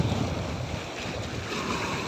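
Strong ocean waves surge and wash onto a beach with no rain, a loud continuous roar mixed with wind buffeting the microphone.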